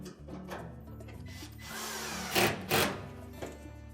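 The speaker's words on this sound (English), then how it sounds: "then we'll install the 2 retaining screws" A power driver runs in short bursts while two retaining screws go into an LG dryer drive motor, with whirring and a couple of louder grinding surges up close.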